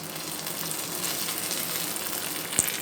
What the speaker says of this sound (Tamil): இது நெய்யில் கொஞ்சமாக வறுத்த வேர்க்கடலையும் கடுகும் போட்டு தாளித்து விட்டுருக்கேன்